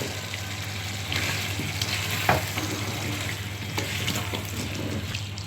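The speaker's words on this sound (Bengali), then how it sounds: "এখন আমি কেটে রাখা মিষ্টি কুমড়া দিয়ে দিব।" Cut sweet pumpkin being stirred into frying prawns in a pan: a continuous close sizzle with scraping stirs and a brief clink, over a low steady hum.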